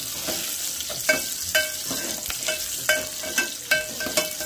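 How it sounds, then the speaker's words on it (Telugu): Ginger and garlic frying in a pan while a spatula stirs them, giving a steady sizzle broken by sharp, irregular scrapes and taps against the metal, close and fairly loud with no talking. "అవన్నీ వేసుకొని ఇట్లా మిక్స్ చేసుకున్నాం"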